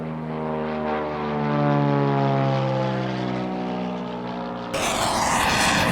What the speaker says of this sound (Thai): นั่นมันเครื่องบินของกองกำลังป้องกันตัวเอง